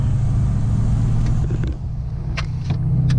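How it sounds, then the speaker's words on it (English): A tow truck descends a gentle grade on its exhaust brake, the butterfly valve choking the engine into a loud, steady low rumble, with brief higher clicks and whooshes near the end. "Using that butterfly valve to slow the truck down on a grade."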